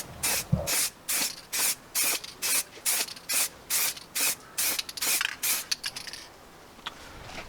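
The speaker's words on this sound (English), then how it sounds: "So we have our matte black spray." Matte black spray paint being sprayed onto FB Mondial 125 motorcycle parts, about a dozen short even hissing bursts in a steady rhythm, close and loud, with no talking.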